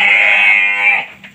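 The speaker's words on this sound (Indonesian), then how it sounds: "Masya Allah, besarnya sahabat dombanya." A sheep bleats loudly and steadily at close range on a village farm during feeding, one sustained wavering call that tapers off near the end.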